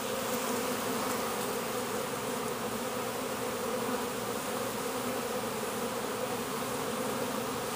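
A June honeybee swarm hangs in a low tree, its dense, steady buzzing droning close and loud without a break, with no voices over it.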